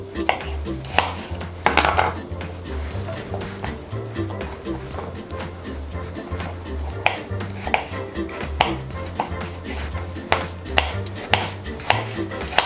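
A knife chops ripe mango into cubes on a board for fruit chaat, a run of sharp, fairly regular taps close up, with a voice talking over them throughout.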